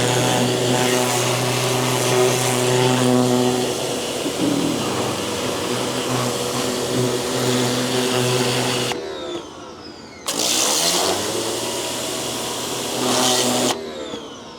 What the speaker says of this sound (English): So far, I like this pressure washer. It's doing a pretty good job.